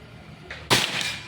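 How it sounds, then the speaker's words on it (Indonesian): A Predator Pajero Gen 6 air gun fires a single sharp shot during an accuracy test, a loud crack after a brief quieter click, followed by a short fading tail. "Tembakan kedua Pak ya"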